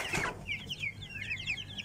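Young Pama IQ cross Shamo Asil chicks, about three weeks old, give a quick run of soft high cheeps and clucks, fairly close and otherwise quiet.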